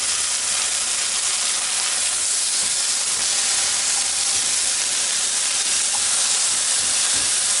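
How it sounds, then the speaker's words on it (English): Ham frying hard in a hot pan, a loud steady sizzle and hiss that fills the whole stretch without a break, close up with no voices. "You also want to do this and really cook the ham."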